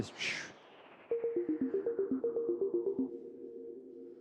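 A Sonic Pi synth plays a quick run of plucked notes in a steady rhythm, each note smeared into a long, big-room reverb tail that lingers and fades after the notes stop.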